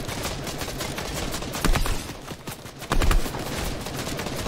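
Gunshots in PUBG: rapid sharp cracks through the clip, with two louder close shots near the middle, over noisy outdoor game ambience.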